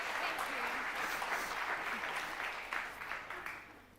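Audience applause in a school hall during a community group event, a dense steady clapping that thins slightly near the end, with voices faintly mixed in beneath.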